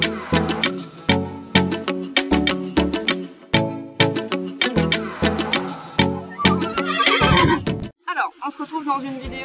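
A horse neighs and whinnies repeatedly at close range in a meadow, loud rhythmic calls filling most of the stretch before a sudden drop to quieter outdoor sound near the end.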